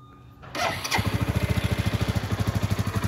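A motorcycle engine cranks briefly, catches and settles into a steady, loud, close idle with an even rapid pulse.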